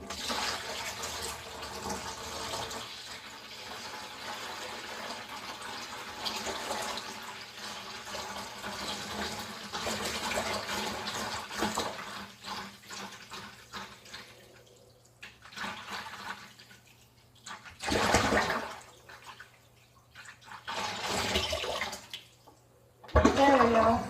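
Cold water poured into a container to top it up, a running splash that swells and fades in several bursts, alone with no talking.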